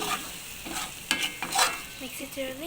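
Biryani rice with added salt being stirred as it fries in a pan, giving a short burst of close scraping and rustling over a low sizzle.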